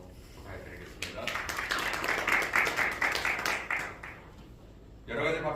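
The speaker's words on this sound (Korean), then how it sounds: "박수로 축하해드리겠습니다." Audience applause at a doctoral degree ceremony for missionaries from a United Bible University in Los Angeles, a steady spread of many hands clapping from about one second in and fading near five seconds, with a voice and background murmur underneath.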